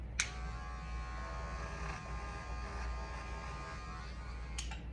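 An electric hair clipper buzzes steadily up close while tapering a bald fade on a mannequin, a constant hum with faint clicks at the start and end.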